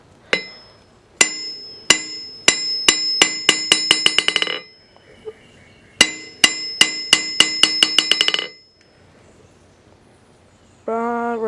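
A hammer bounces on a wrought iron anvil with a welded plate, giving two runs of bright ringing strikes that speed up as the rebounds shorten, each settling into a rapid patter. A voice follows.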